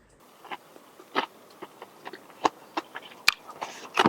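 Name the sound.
eating crunchy chips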